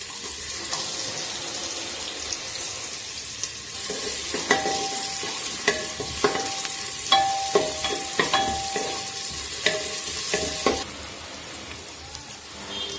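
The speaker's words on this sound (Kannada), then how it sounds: "ಈಗ ಈರುಳ್ಳಿ ಹಾಕೋಣ" Onions drop into hot oil in a cooker for a chicken curry and set off a bright, steady sizzle. Repeated metallic clinks and scrapes from stirring cut through it before it stops abruptly.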